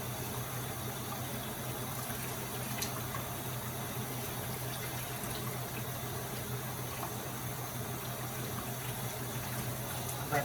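Bacon fries in a pan on low heat, giving a steady, even sizzling hiss that carries without a break from start to finish, with no voices.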